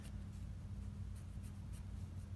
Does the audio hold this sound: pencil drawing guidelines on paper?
yes